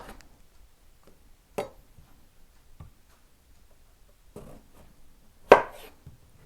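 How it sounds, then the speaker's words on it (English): Zucchini is cut into cubes on a board, with a few sparse, sharp knife chops at irregular intervals, close and isolated against near silence. "So we put a little bit of zucchini. Cube them."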